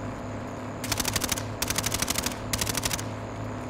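A mounted gun in Call of Duty: Warzone fires in three rapid bursts of evenly spaced shots, loud and close, over a steady rumbling background.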